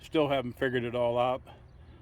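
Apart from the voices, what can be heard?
No everyday noises stand out.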